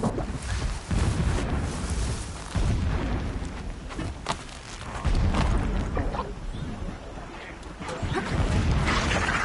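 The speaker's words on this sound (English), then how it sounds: "Explosions in the distance." Distant explosions in Horizon Zero Dawn rumble as low, repeated booms rolling in and out beneath a steady wind-like roar, with no clear break between the blasts.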